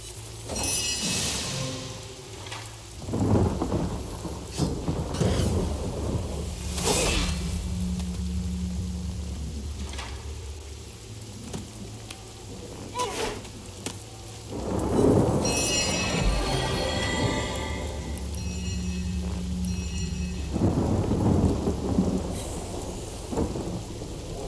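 A thunderstorm in Divinity: Original Sin Enhanced Edition: loud, rolling thunder cracks roughly every few seconds over steady rain, with a low musical drone underneath throughout.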